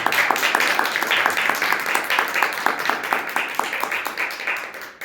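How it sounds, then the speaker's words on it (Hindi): A church congregation claps together in a steady, rhythmic beat during worship, with many hands striking in unison at close range for several seconds, and faint voices underneath. "ताली बजा के हम प्रभु का नाम गाएं"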